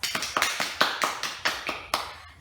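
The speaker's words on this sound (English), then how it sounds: "let us give ourselves a round of applause" A class gives itself a round of applause, about ten sharp, evenly spaced unison claps, close and crisp, each fading quickly, with no speech over them.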